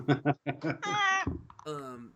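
A cat meows twice, each call a drawn-out, tonal cry, the second rising into a long wail, with a person's voice talking briefly before and between them.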